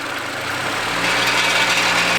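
A cheap, worn Honda Civic EG engine runs under the open hood, giving a steady idling drone with a broad, rough hiss, close and unbroken for a couple of seconds.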